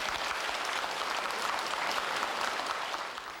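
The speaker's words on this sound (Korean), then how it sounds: "큰 박수 부탁드립니다" An audience at a Buddhist seminary graduation ceremony gives sustained, even applause, a dense wash of clapping heard at a moderate distance that holds steady before easing off at the close.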